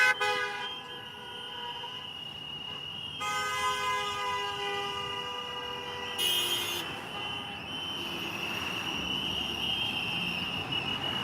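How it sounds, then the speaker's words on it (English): Car horns honk in long sustained blasts at a street protest in Cicero, Illinois, overlapping and changing pitch over steady traffic noise, loud and close with no talking. "Probably a little hard to hear me because of all the cars that are honking their horns."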